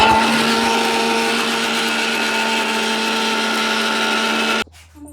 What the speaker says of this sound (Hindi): और अब इसको ग्राइंड कर लेंगे